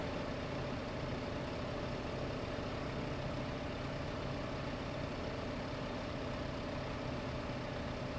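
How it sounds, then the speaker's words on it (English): A small tractor in Farming Simulator 15 drones under load on the Sosnovka map, its low engine rumble steady and unbroken throughout, fairly quiet with no voices. "hopefully this little tractor can pull this load up the hill"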